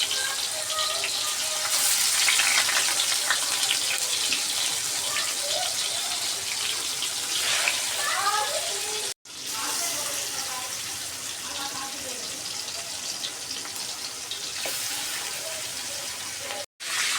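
Pangas fish frying in oil under a lid makes a continuous close hiss and sputter, loud and steady, with two abrupt brief dropouts and faint background voices or birdlike chirps mixed in.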